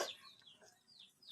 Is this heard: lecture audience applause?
no